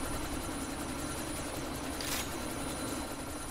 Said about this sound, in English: run up to the helicopter